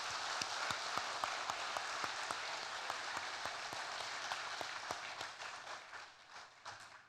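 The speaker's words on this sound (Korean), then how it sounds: "우리 아이들에게 큰 박수로 한번 격려해 주시기 바랍니다." Church congregation applauding children after their singing at a service, with even, rain-like clapping and a few sharp isolated claps standing out, thinning and tapering off toward the end.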